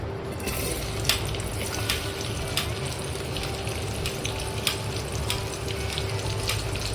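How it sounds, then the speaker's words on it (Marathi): Onion sizzling in two tablespoons of hot oil, a steady, dense hiss with a few faint clicks scattered through it. "दोन टेबलस्पून तेल टाकलंय आपण त्याच्यात कांदा टाकून घेऊया"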